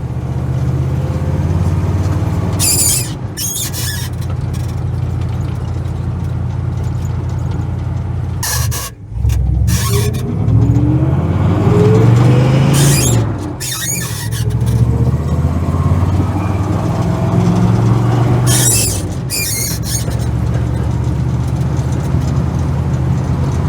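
A Chevrolet C30 truck drives along, held in second gear, its engine droning loud and close with steady rising and falling pitch, a few rattles and squeaks cutting through, and no talking.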